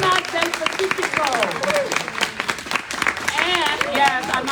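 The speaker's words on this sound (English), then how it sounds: "Give a big round of applause for Neblinas del Pacifico" Audience applause for the performing group Neblinas del Pacifico at a book launch party at El Rio, clapping running under cheers, whoops and lively voices throughout.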